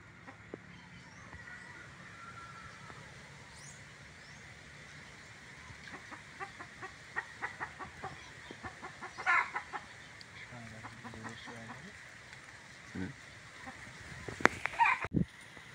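A hen clucks agitatedly in bursts near a young boa constrictor, amid faint outdoor ambience, with rustling and a few sharp squawks near the end.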